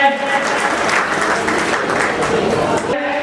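An audience at a community get-together claps steadily for about three seconds, a dense, even patter of hands filling the room before it tapers off.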